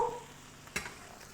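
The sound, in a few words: fish skin frying in oil in a pan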